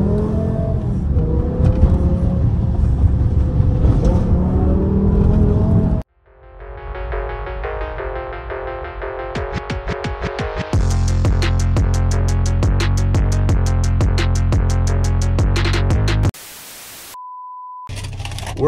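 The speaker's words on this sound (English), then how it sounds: "We're doing another POV night drive in the M5 E60" A 2006 BMW M5 E60 accelerates hard on a night drive, its engine roaring loud and close, climbing through revs with a brief gap and shift, followed by an electronic tone near the end.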